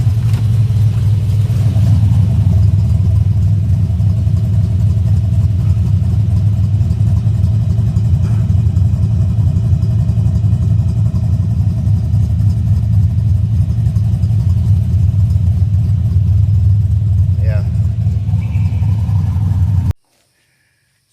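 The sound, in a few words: 1990 Ford Mustang LX Foxbody exhaust with M80 mufflers, no tailpipes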